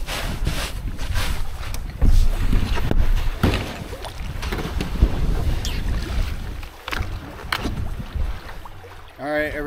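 Gusty wind buffets the microphone outdoors near a lake in the North Maine Woods, with rough rumbling bursts and occasional voices under the noise.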